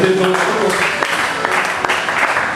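A church congregation applauds during a sermon, a steady wash of clapping with a few sharper individual claps and a faint voice underneath.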